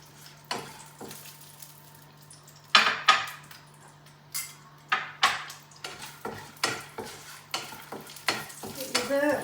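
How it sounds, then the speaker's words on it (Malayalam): Almonds fry in hot ghee in a pan. A spoon stirs them in repeated scraping strokes over a soft, steady sizzle. "പിന്നെ നമുക്ക് ഈ ബദാം ഇട്ട് കൊടുത്തൊന്ന് വറക്കാം."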